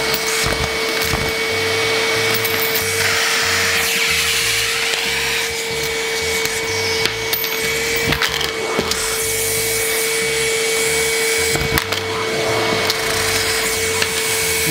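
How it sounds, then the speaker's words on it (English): Worx 20V portable vacuum sucking up nickels, a steady close motor whine with scattered rattling and clinking of coins being pulled in. "I was trying to suck up too many at once."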